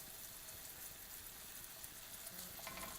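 Homemade caramel sauce being stirred in a pan, a soft continuous bubbling sizzle with light stirring, faint and close, no voices.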